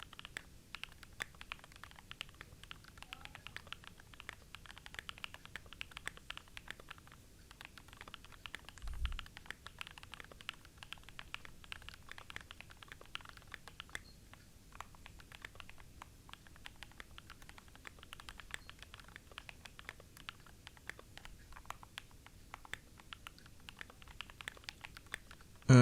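Fast, continuous clacking of a mechanical keyboard fitted with Durock POM switches and a flipped space bar, with dense, even keystrokes heard up close and no talking.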